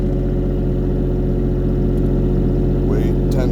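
A generator engine running loud and steady at idle, then shifting toward run speed near the end with a rising note, under a constant heavy mechanical drone.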